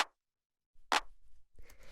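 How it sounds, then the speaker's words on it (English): A small, tight electronic clap sample for minimal house sounds twice, a short dry snap at the start and a sharper one just under a second later, fairly quiet, with faint low rumble and soft noise after. "And then the last layer we have here is the clap"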